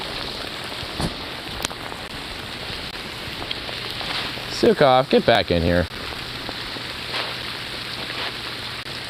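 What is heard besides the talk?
hail falling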